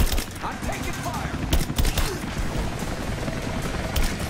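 Rapid gunfire bursts in the video game Rise of the Tomb Raider, dense overlapping shots and impacts with a rumbling background, loud and close, with voices talking faintly underneath.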